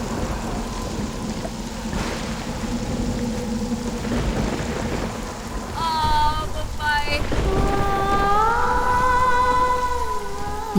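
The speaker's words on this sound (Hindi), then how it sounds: "अभी अभी आसमान साफ था और अब ये बादल और बारिश।" Rain falls steadily with a broad hiss and low rumbling as the weather suddenly turns cloudy, with swelling tonal music rising over the downpour in the second half.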